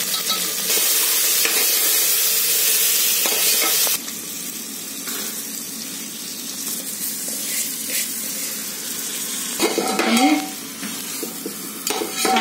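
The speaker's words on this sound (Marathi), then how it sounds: "आता हे बटाट्याचे तुकडे घालते" Potato pieces frying for khichdi with cumin-coriander powder, a loud sizzle and scraping stir in a pan, easing to a softer hiss with occasional sharp clinks and stirring strokes.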